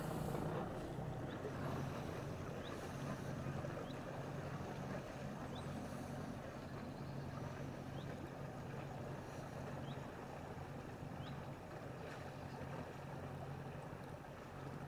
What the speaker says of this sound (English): The ice cream boat.